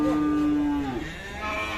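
A calf at a cattle market lets out a single clear, close moo that rises and then trails off, with faint market background noise around it and no talk.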